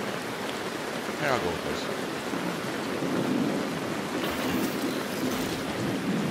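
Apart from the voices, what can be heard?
rain playing in the background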